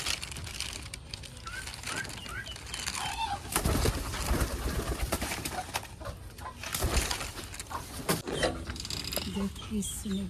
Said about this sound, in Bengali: এবার এই যে মায় ধরতে আছে কবুতর।